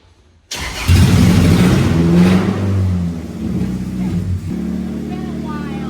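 A race car engine at Owosso Speedway fires up abruptly after near silence, then runs loud and rough as the throttle is worked, the pitch rising and settling as it is revved and held at a steady idle.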